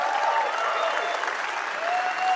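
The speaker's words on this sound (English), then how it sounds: "Applause erupts around you" Dense crowd applause plays as a sound effect, a steady wash of many clapping hands at even loudness with no gaps.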